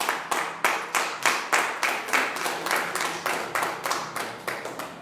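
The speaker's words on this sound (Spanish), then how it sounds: "Dale un aplauso al Señor" A church congregation claps together in a steady rhythmic beat, each unison clap sharp and evenly spaced at roughly three per second, continuing for several seconds.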